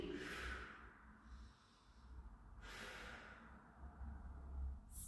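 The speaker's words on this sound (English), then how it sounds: "Steady long breaths." Slow, steady breaths drawn in and pushed out through the nose during a stretching class, close and fairly quiet, with long airy exhales spaced a couple of seconds apart.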